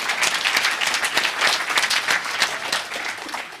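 A room of participants at a memory-training workshop applauds themselves, a lively burst of many hands clapping nearby with distinct individual claps standing out before it tapers off.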